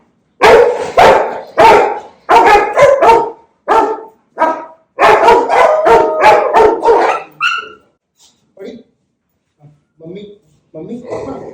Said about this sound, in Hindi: वो सब भौंक रहा है